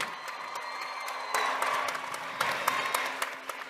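Audience applause for university graduates at a commencement ceremony, a steady wash of clapping from a large crowd with a few louder swells, heard on its own without talk.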